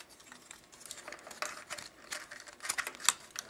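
Plastic parts of a Transformers Revenge of the Fallen Voyager Bludgeon toy robot are unclipped and folded back, giving a string of faint, irregular clicks and snaps with no voices.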